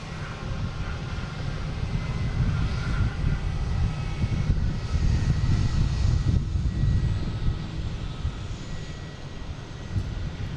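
A jet airliner taking off at Boston Logan Airport, a loud continuous engine roar with deep rumble and a high whine, steady throughout with no talk.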